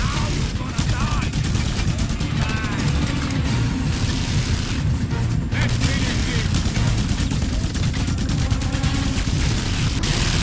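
Sustained gunfire and explosions in the action game Just Cause 2: a constant loud wall of rapid shots, mechanical clatter and booms that never lets up across the whole stretch.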